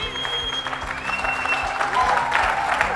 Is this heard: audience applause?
yes